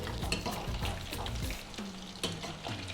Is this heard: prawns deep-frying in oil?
yes